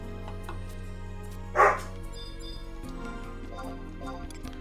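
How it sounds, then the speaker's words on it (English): Dogs fighting at night, heard as one sharp, loud bark or yelp standing out from a steady background hum, with faint activity continuing afterward. "It is about that time of night where the dogs decide to fight each other"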